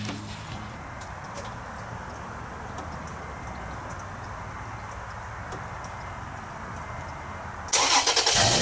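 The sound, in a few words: 2011 Toyota Tacoma V6 engine starting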